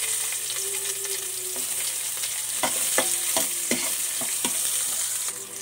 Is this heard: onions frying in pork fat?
yes